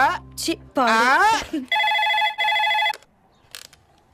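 A telephone bell rings in two long electronic bursts, loud and close, right after a voice speaks; a brief sound follows near the end.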